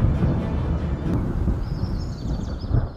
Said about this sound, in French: Le temps est à l'orage.